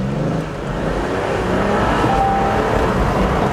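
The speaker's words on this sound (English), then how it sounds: "I can show you the powerful engine from this benzene version" Petrol engine of an Ineos Grenadier off-roader revving as the accelerator is pressed, a loud, steady, close rumble that gradually builds.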